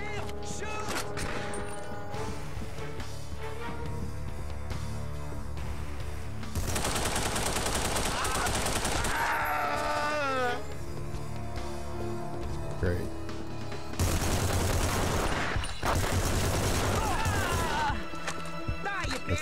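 Gunfire in The Punisher on the original Xbox: dense bursts of shooting and crashing impacts over a constant loud game backdrop, with several louder stretches, and speech mixed in.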